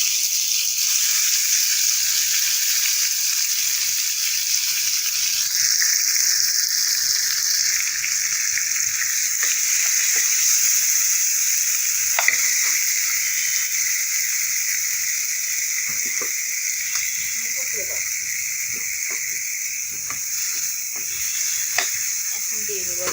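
Grated carrot for Bengali carrot halwa sizzles steadily in a hot pan, a continuous bright hiss that lasts throughout with occasional soft stirring clicks, close and fairly loud.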